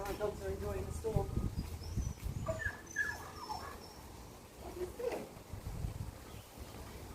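Dogs in a winter storm give short whimpers and yips amid gusting wind, mixed with a person talking over the noise.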